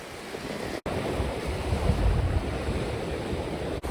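Waves wash steadily onto a rocky Baltic Sea beach on Latvia's Courland Coast, a continuous close surf roar with wind buffeting the microphone and no speech.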